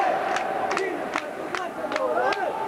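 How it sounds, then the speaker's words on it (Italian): Roseto basketball fans chant and shout in rhythmic bursts in a packed arena during a 1989/1990 Serie B1 playoff game, the crowd's voices rising in repeated cries under a roaring background din. "Non so se riuscite a sentire i cori dei tifosi del Roseto"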